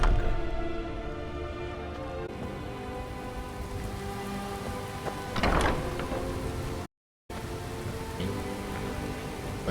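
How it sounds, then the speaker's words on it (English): Skyrim Anniversary Edition: steady rain patters and hisses in the background, muffled as heard from indoors, with a brief swell of clatter partway through and a short dropout. "Like you can hear it raining"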